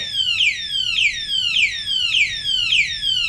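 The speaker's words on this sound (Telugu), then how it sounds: "అది అలారం మోగడం స్టార్ట్ అవుతుంది" A motorbike's smart-lock anti-theft alarm sounds nearby, loud and alone, in a repeating siren pattern of sweeping electronic wails that cycle about every half second.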